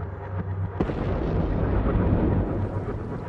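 An explosion from an airstrike during a bombing campaign in Yemen: a deep, rumbling roar that holds loud for several seconds, with a sharp crack near the start, no voices.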